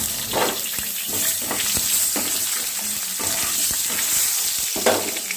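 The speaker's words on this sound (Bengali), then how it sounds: "আলুগুলোকে ভালো করে একটু ভাজা করে নিচ্ছি।" Potatoes fry in oil over a nigella seed tempering, giving a close, steady sizzle broken by repeated spatula scrapes and stirring knocks throughout, with no voices.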